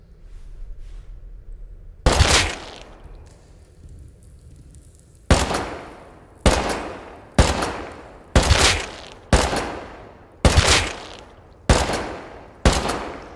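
Gunfire in the survival game Rust rings out as about nine sharp, loud single shots spaced roughly a second apart, each with a short decaying tail, after a quieter stretch of ambient game noise.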